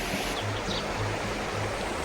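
A mountain stream in the village of Kvasy in Transcarpathia rushes in a steady, unbroken wash of water, fairly close and even in level, with no voices.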